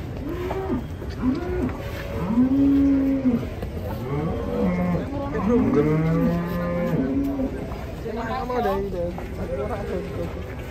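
Cattle moo loudly and repeatedly while a large, agitated cow is being loaded onto a livestock truck, with handlers talking and shouting over the lowing throughout.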